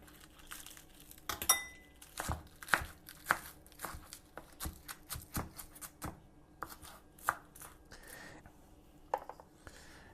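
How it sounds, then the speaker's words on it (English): A knife finely chops green onion stalks on a cutting board, with a run of quick, sharp taps at an uneven rhythm, close but fairly quiet, without talking. "I'm going to finely chop up a couple of stalks of green onion"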